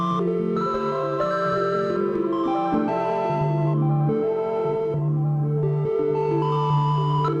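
Polyphonic synthesizer chords run through a Chroma Console set to doubler, cascade delay and cassette texture, dense warm sustained layers with a trailing repeating wash, steady and alone.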